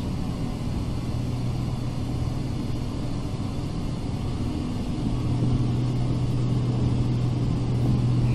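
Twin engines of an Alabeo DA42 aircraft in the FSX flight simulator run at takeoff power as a constant loud drone, and the steady hum rises slightly in pitch partway through as power builds.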